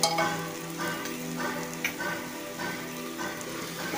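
Rice sautés in ghee in a pan while making coconut rice, giving a steady sizzle. Soft stirring scrapes recur at regular intervals.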